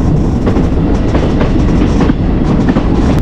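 A passenger train runs along the Goa–Dudhsagar railway route in India, its steady loud rumble and rhythmic clatter of wheels on rails filling the whole stretch without pause.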